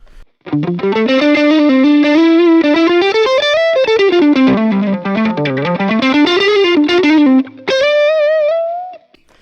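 Electric guitar on the neck pickup through a light overdrive pedal, playing a sustained melodic lead line with bends and slides, loud and close, with a pause and a final held note near the end.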